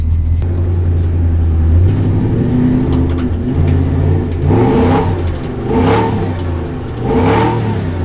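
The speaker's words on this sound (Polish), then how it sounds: "Możesz na jedynce i więcej gazu dać." A car engine revs hard in first gear during drifting practice, rising and falling in repeated surges with loud, close exhaust rumble and no talk over it.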